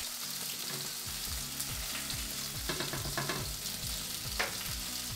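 Cream boiling alongside chicken cooking in a pan for blackened Alfredo chicken, a steady close sizzle and bubbling with occasional stirring clatter, no talking.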